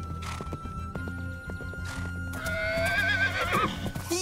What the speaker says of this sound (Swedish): jag hittar en häst som jag kan rida på in till stan